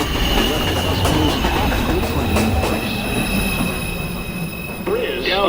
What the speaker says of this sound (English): Uptown Express 2 train to Richter Street. Approaching the station